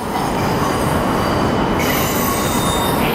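A Shinkansen bullet train rumbles loudly past at close range in Tokyo Station, a continuous roar of wheels on rails with faint high squealing.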